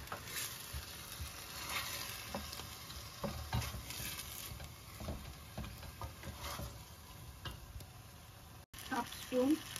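Tomatoes sizzle in hot oil for biryani while a spoon stirs them, a continuous close frying hiss broken by repeated scraping strokes, with a person talking over it in places.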